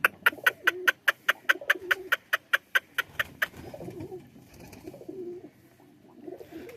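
A pigeon from a home flock coos and calls in a rapid run of about a dozen sharp, evenly spaced notes up close, then a softer, lower throaty murmur carries on with a little background noise.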